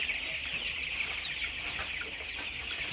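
Many chickens cluck and chatter steadily inside a poultry shed, a dense continuous flock sound with occasional louder calls rising above it, fairly close and with no talking.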